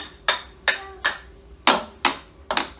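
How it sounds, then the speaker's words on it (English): Hammer blows during home DIY, six sharp, fairly loud strikes in an uneven rhythm, alone with no talk. "Are you hammering too?"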